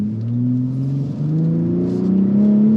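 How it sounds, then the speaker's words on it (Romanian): A large engine in a 6-metre, 3-tonne, 450 hp Ford revs steadily higher with a rising, throaty drone, loud and close, heard from inside the car without talk. "Se aude demențial. Motorul ăsta chiar e ceva wow."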